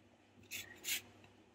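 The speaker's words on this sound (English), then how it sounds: "I have grated all my lemon" Lemon zest is rasped off a lemon on a kitchen grater, heard as two short, quiet scraping strokes close by, with no talk.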